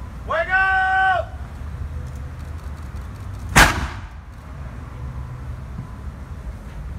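A single sharp gunpowder ignition crack from a colonial-era firearm demonstration with a slow-burning wick, heard once mid-clip after a brief whistle-like tone, with a short decaying tail and quiet surroundings.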